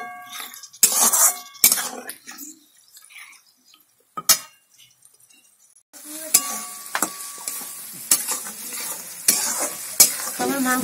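Chicken pieces with small potatoes and carrots being stir-fried in a pan, with intermittent scraping and stirring strokes, a soft sizzle underneath and occasional utensil clinks, close and irregular.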